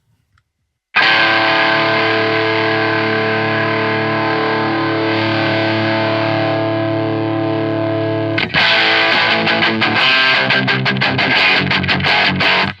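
Electric guitar runs through a Zaphod Overdrive and an Otter's Pocket Reverb pedal: a loud, distorted chord rings out and sustains, then gives way to fast, choppy strumming that stays driven and up front.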